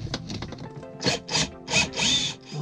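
Pre-made wooden plugs snapping on a teak step rebuild, a quick run of dry woody cracks followed by four or five louder, distinct snaps in an uneven rhythm, close and alone.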